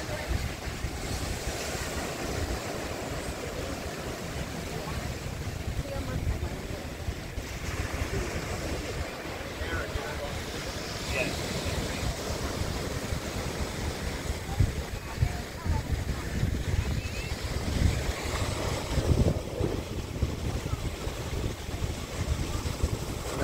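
Sailboat moving over open water, with waves and surf washing steadily around the hull and wind buffeting the microphone throughout, a continuous broadband rush that rises slightly toward the end.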